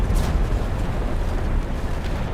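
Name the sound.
artillery shell exploding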